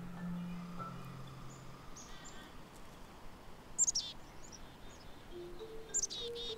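A black-capped chickadee gives short high chirps, two brief bursts near the middle and end, faint and a little distant over a low steady background with other bird calls.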